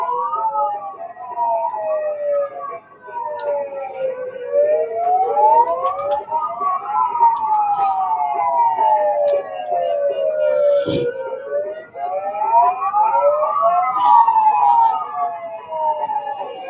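Several police sirens wail and yelp outside Uber headquarters during a protest, overlapping rising and falling tones, loud and close, with brief honks and crowd noise around them.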